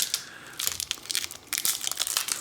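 A Magic: The Gathering Judgment booster pack being torn open, with close, crisp crinkling and ripping of the foil wrapper in several quick bursts separated by brief pauses.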